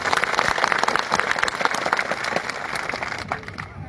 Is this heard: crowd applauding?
yes